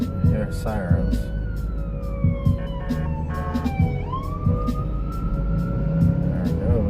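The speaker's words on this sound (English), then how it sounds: "Sirens." An emergency vehicle siren wails, rising and falling as it passes amid steady traffic noise and a passing voice.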